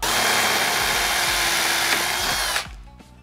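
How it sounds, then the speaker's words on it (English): A power drill grinds steadily through the rivets holding a Mercedes W212 GT-style front grille, loud and close for about two and a half seconds, then cuts off abruptly, leaving a faint hum. "the next step is to remove the last four rivets on this edges here"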